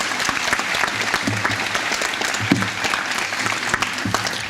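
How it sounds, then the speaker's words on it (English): Audience applause fills a baccalaureate service hall, a dense steady roar of many hands clapping at once, loud and sustained throughout with no speech over it. "You can give her a round of applause,"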